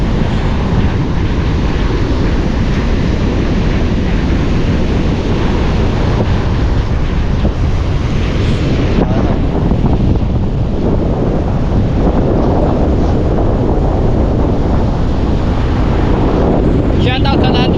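Steady, loud wind gusting across a beach shoreline with surf and waves breaking, a dense continuous roar throughout with no pauses, heavy buffeting on the microphone.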